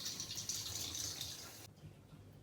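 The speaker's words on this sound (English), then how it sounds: "I'm going to mix it with running water from the tap to make it look warm" Running tap water pours into a bowl as a soft, continuous hiss, fairly faint and close, then cuts off sharply partway through, leaving a low, quiet background.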